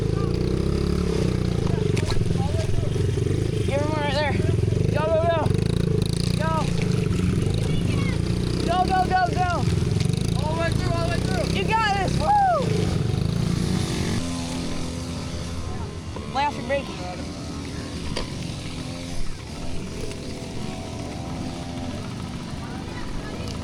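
A dirt bike engine at a hare scramble race revs and whines in repeated rising bursts over a steady rumble of distant engines, while people talk and shout over the noise.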